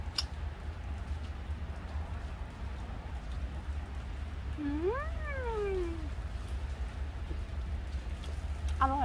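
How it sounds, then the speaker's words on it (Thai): Steady rain falls on a cherry orchard in Wadenoijen, Netherlands, making a constant dense hiss with low rumble, and a single cat-like meow rises and falls midway through. "ฝนตกเราถ่ายทำไม่ได้นะคะเดินถ่ายไม่ได้แฉะมาก"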